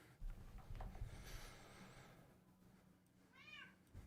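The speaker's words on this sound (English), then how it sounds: "My cat's yelling at me." A house cat meows and yowls insistently at close range, its calls rising over a low hum and a few soft thumps, with no one talking.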